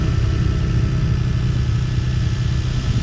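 A Toyota 2JZ engine in a Lexus street car idles close by with a deep, steady, even rumble that stays loud throughout, with no talking.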